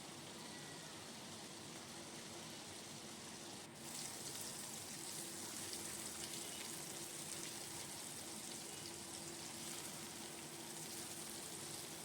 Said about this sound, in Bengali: পনিরটাকে আমি ভালো করে ভেজে নিলাম